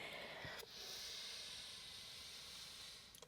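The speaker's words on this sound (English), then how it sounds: "maybe letting out like a shushing breath." A soft, steady shushing exhale during a Pilates cat-cow stretch, a single long airy breath heard close and quiet.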